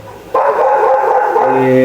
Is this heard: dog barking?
yes